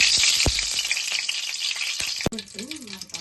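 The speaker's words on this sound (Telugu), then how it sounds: "స్టవ్ వెలిగించుకుని కడాయి పెట్టుకుని 1 స్పూన్ ఆయిల్ వేసుకుందాం. 1 స్పూన్ బటర్ వేసుకుందాం." Oil and butter sizzling in a kadai on the stove, a loud continuous hiss that drops off near the end, with a few clinks and a voice briefly heard.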